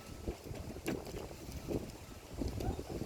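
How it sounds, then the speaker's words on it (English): Wind blows outdoors at around 11 knots from the southeast, a gusty rumble buffeting the microphone in uneven surges, fairly faint with no voices. "the wind still makes the flag blow"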